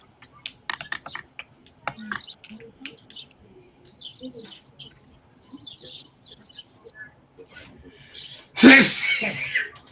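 A sudden, loud sneeze bursts out near the end, following a stretch of quiet clicking and light tapping sounds in the background.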